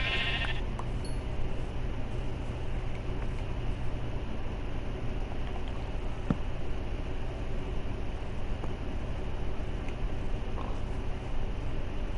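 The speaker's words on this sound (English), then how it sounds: "Sheep." Minecraft sheep bleating, a single short bleat near the start, then steady quiet game ambience for the rest of the clip.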